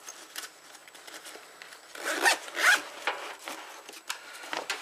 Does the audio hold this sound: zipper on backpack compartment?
yes